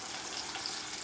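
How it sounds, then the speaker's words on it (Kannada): Green chilies fry in a pan for a peanut chutney, giving a steady, dense sizzle that stays close and even for the whole second, with no voices. "ಹಸಿಮೆಣಸಿನಕಾಯಿ ಫ್ರೈ ಆಗಲಿ"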